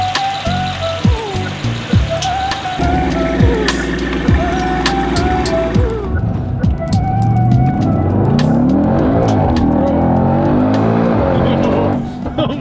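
A 1,000-horsepower RennTech Mercedes accelerates hard, its engine screaming loudly up through the revs with sharp gear changes, heard close from inside, while excited voices shout over it.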